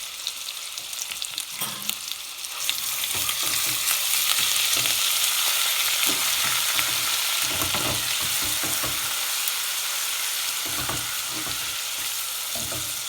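Ginger and garlic paste with a green chili frying in a pan over medium heat, a continuous bright sizzle that swells after a couple of seconds, with soft stirring scrapes throughout.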